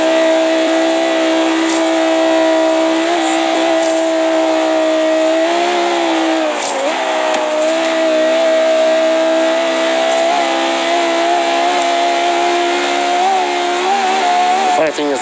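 A Lexus LFA V10 engine in Forza Horizon 3 holds a loud, steady, high-pitched drone. Its pitch dips briefly in the middle, then it continues strong throughout.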